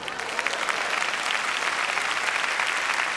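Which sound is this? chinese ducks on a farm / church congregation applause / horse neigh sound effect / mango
church congregation applause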